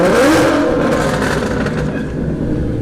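A 2014 Mustang engine revs loudly and close by, a sustained throaty roar that rises and then eases off slightly.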